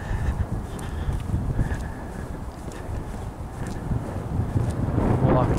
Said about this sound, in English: the wind is pretty cold up here